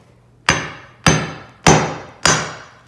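Four sharp hammer strikes on a geode, evenly spaced about half a second apart, each a loud crack with a short ringing decay.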